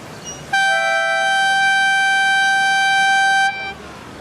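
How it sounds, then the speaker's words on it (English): A loud, steady ceremonial siren blares for about three seconds with a bright, harmonic tone to start a surf contest heat at Rottnest, then cuts off, leaving faint background noise. "Professor Lenny Collard setting us off here with the ceremonial siren to kick off"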